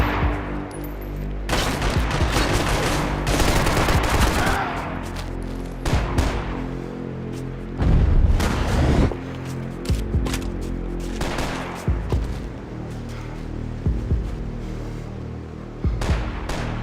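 Sustained firefight in Max Payne 3, loud bursts of automatic gunfire and single shots crackling in waves with brief lulls between volleys, no speech over it.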